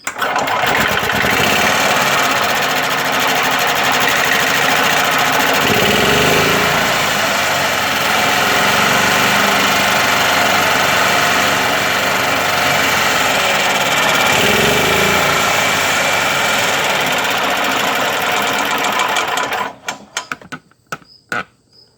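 A Yamaha G9 golf cart engine, freshly fitted with a carb spacer, runs loud and steady at close range for about nineteen seconds, then cuts off abruptly into quiet.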